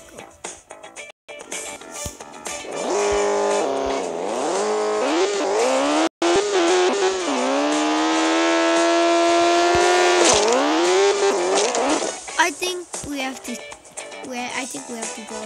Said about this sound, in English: Let's go try the motorcycle